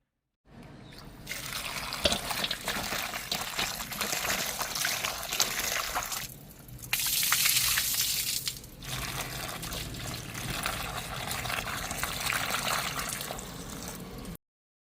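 Half a kilo of brinjals washed under running water, with a steady close splash and trickle that briefly gushes louder midway before settling back to a continuous flow.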